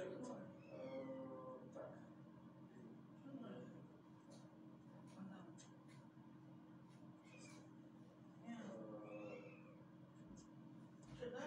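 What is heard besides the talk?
cat meowing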